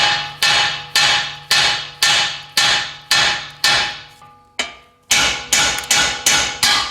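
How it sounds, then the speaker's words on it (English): Loud, sharp hammer blows on a steel Ford Fusion steering knuckle, struck to free a tie rod end: about a dozen evenly spaced metallic strikes with ringing decay and a short pause before a quicker final burst. "I'm going to give this knuckle a few taps"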